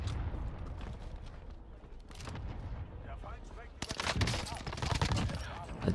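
Bursts of F2000 rifle fire in Warzone, rapid loud shots mixed with explosions and battle noise while someone talks over it.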